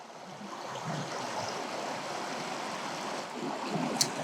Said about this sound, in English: this is the same body of water, and it flows here and goes over and outward.